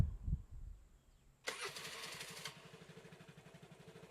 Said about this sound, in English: All right, let's start this baby up.